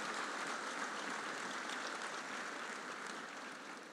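Congregation applause welcoming visitors at a church gathering, a faint, even hiss of many hands clapping that holds steady and tapers slightly toward the end.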